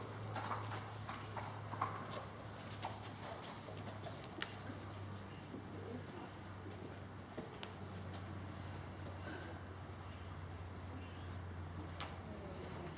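Faint, steady clip-clop of horse hooves at a polo lesson, with distant bird calls over a constant low hum.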